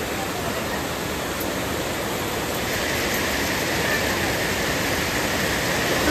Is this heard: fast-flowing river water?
yes